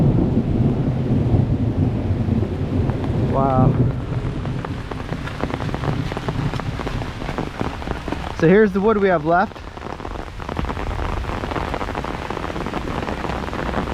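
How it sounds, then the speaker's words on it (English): Heavy rain pours steadily on a wooded property during a thunderstorm, a loud continuous wash with low rumbles of thunder underneath, while someone talks briefly over it. "Listen to that thunder."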